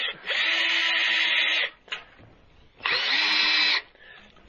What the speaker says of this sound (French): et de visser juste, voilà, juste pour la faire légèrement sortir